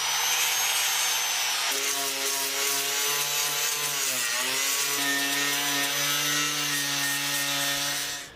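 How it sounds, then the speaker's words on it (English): Power tool grinding a rusty roof bracket on a van, a steady loud whining drone with a brief dip in pitch midway, running continuously alone before cutting off at the end. "we did a little grinding on it"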